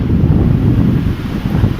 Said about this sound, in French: il y a de belles rafales de vent